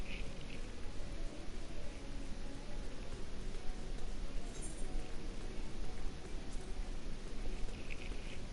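Steady, soft rain falling in the video game Final Fantasy XIV Endwalker, an even patter of drops with no voices over it.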